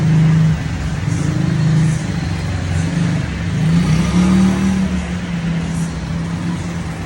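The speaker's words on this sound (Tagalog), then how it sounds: "Ganyan yung jeep nila." A jeep engine hums and revs amid street traffic in Pattaya, a steady loud motor drone with rising swells, close by and without talking.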